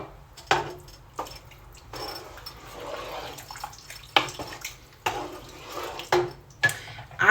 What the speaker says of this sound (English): I think the rest of the water is gonna go in there